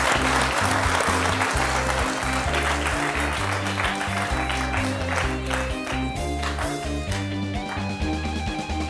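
Studio audience at a comedy game show clapping along over loud rhythmic music with a pulsing bass beat, the applause a constant wash blended into the music.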